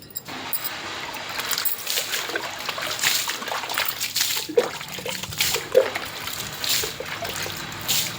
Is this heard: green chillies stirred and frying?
no